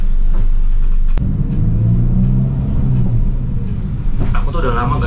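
A Bintang Zahira Skylander R2 sleeper bus rumbles steadily at low pitch while pulling out of a crowded parking area. The heavy engine drone continues throughout, with a person talking over it.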